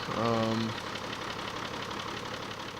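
A truck engine in the video game MudRunner, starting up with a brief louder rev and then settling into a steady, low rumbling idle.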